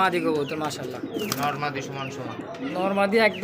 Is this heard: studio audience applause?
no